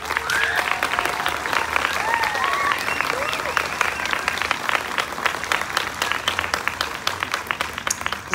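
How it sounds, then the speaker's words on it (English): Audience applause for contestants at the 2024 Mendota Sweet Corn Queen Pageant, a steady, dense wash of clapping from a large crowd sustained throughout, with occasional whoops and cheers rising above it. "let's take one last look at our contestants and give them a huge round of applause."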